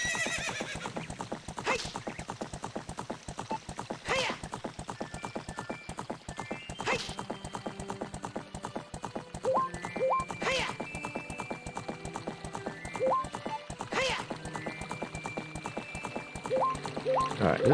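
Epona, the horse in Zelda Ocarina of Time, neighing several times over steady clip-clop hoofbeats in a video game, with short chime-like game sounds and occasional talk in the background.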